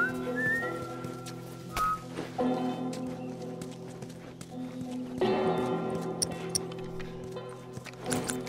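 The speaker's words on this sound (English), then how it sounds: "I'm whistling." A character whistles a tune in The Last of Us Remastered, the melodic whistle heard in short phrases over ambient game sound and some clip-clop movement.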